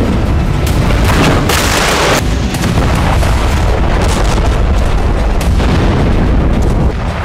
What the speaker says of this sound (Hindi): कीव में इस्कंदर और उत्तर कोरिया की मिसाइलों से